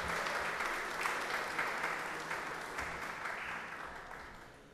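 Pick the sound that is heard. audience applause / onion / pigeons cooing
audience applause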